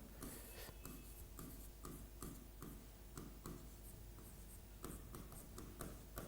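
Quick strokes of writing on a board during a Class 10 biology lesson make a faint, close, rhythmic scratching that comes in short repeated bursts.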